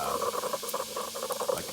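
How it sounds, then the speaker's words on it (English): A Keurig K-Supreme brewer running an 8-ounce brew with a descaling mixture gives a steady close-up sizzling hiss and fine bubbling patter, continuous for under two seconds. "See how it's like kind of sizzling in there and bubbling?"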